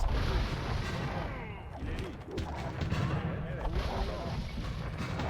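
Heavy booming bombard cannon fire in a strategy game siege push, rolling blasts over a dense battle din, with a voice talking underneath.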